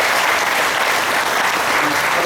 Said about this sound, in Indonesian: Tepuk tangan angka 1.